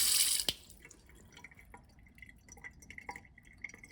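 Water trickling and dripping as a Belfast double-bowl kitchen sink drains, with small gurgles and drips scattered over a quiet background after an initial splash.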